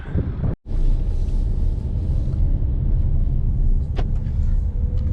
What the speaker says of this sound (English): We are now driving over Kylesku Bridge.